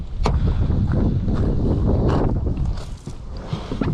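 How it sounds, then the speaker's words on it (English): Strong wind buffets the microphone outdoors in cold weather beside a 2019 Chevrolet Camaro 1LT, with a low, heavy rumble and intermittent gusts, plus a few faint knocks and movements. "Very cold and windy out here."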